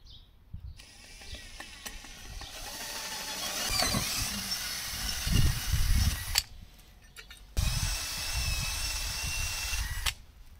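A power drill bores a hole through the hull of an inflatable Zodiac SR230 boat to mount launching wheels, whirring steadily and loudly for several seconds with a brief pause and a few ratcheting, grinding bursts.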